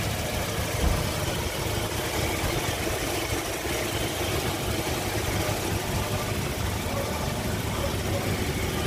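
A Toyota Kijang LGX 2.0 with automatic transmission idles with a steady, even hum that stays constant throughout, close and moderately loud.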